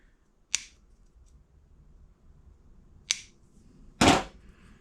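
A rubber O-ring from a Vespa Rally 200 engine rebuild kit is cut apart, giving three crisp, close snips spaced a few seconds apart, the last one louder and longer, against a quiet room.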